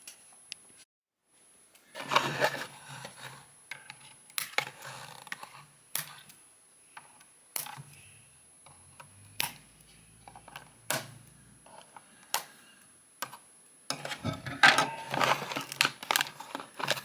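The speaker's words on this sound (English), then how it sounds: "now we just have to cut these plastic bindings" Plastic bindings snipped from a Transformers Legacy United Voyager Class Tarn action figure package, close scattered cuts, crinkles and rustles of packaging with quiet pauses between, no talk.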